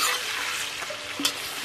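Beef or lamb with onion fries in a pot over an outdoor fire for Uzbek dimlama, with steady sizzling and intermittent stirring scrapes, close and continuous, no voices.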